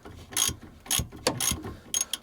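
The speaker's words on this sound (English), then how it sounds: "just use a ratchet." A ratchet loosening a tie rod nut on a W124 Mercedes, four quick bursts of close metallic clicking in a steady back-and-forth rhythm, loud and alone.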